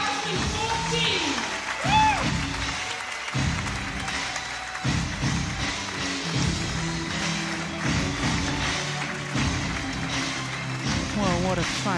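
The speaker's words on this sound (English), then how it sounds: "give a big applause to the medalist of Denmark Open" Sustained crowd applause for the medalists of the 2014 Denmark Open badminton men's doubles final, a steady wash of clapping from the arena under someone talking.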